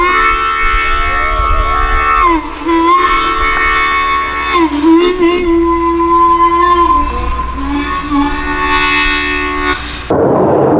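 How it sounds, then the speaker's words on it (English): A jet aircraft flies low near an Air Force base with a loud, sustained roar and whining engine tones that slide in pitch for about ten seconds before cutting off abruptly. "Sorry about that jet noise."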